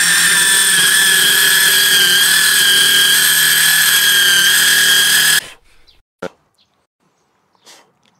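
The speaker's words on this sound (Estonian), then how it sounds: "No et niisuguse pisikese sae kohta ma arvan, see sai väga hästi hakkama" Small power saw ripping lengthwise along the grain of a 55 mm timber beam, a loud steady high whine for about five seconds before cutting off, followed by a few faint knocks and near-silence.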